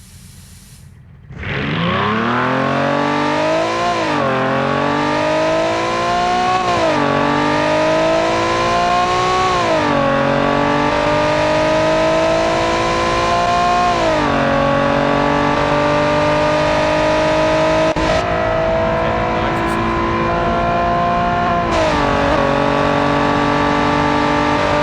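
A car with a 100-kilowatt nitrous-boosted engine in the Automation video game launches down a drag strip, its loud engine tone climbing steadily through repeated gear shifts for over twenty seconds with a hissing edge, no talking.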